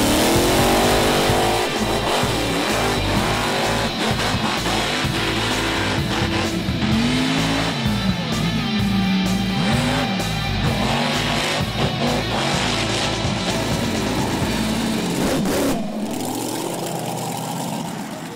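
Mud bogging trucks rev hard at Bithlo, engines roaring and climbing in pitch through repeated surges, loud and close, with a busy outdoor crowd behind and a sudden drop near the end.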